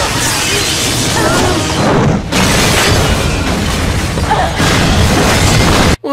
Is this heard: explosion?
yes